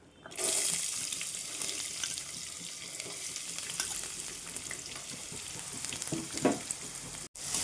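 Thinly sliced onions fry in hot oil alongside bay leaves, a soft continuous sizzle with occasional stirring scrapes, close but fairly quiet, heard on its own with no voices.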